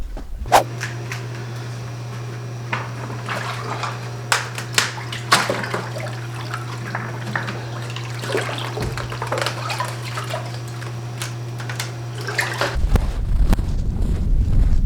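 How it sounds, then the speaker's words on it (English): Water runs and splashes steadily from a tap into a dog's water bowl over a low mechanical hum, then a gusty rush of wind noise takes over at the end. "Let me get you some water."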